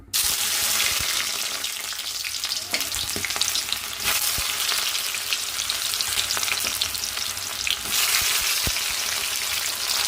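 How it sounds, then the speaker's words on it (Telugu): Okra sizzling steadily in a pan with onions, tomatoes and green chillies, a dense continuous fry with occasional sharp clicks of stirring, close and loud with no talk. "ఫ్రై చేసుకుందాం"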